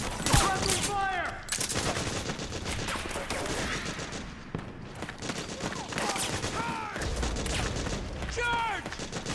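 Rapid gunfire in a Metal Gear Solid 4 battle, with loud repeated bursts and volleys through the whole stretch and shouting voices breaking in over the shots.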